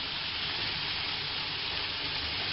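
Drained fried potatoes being tossed and mixed in a pan or bowl, with a steady close sizzling hiss running throughout and a slight knock at the end.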